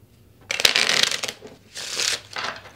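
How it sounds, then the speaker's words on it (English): A deck of playing cards is shuffled up close, in two riffling bursts of fluttering, crisp card noise separated by a short pause. "I do always cut the deck with you guys and then shuffle one more time"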